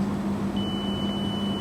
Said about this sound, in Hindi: बीप की आवाज़ आप लोगों को सुनाई दे रही होगी।